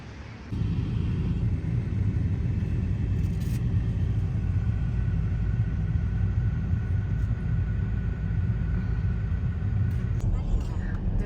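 A car travels along a road near Kemer, Turkey, with a steady loud engine and road rumble filling the cabin throughout, a faint tonal hum riding on top.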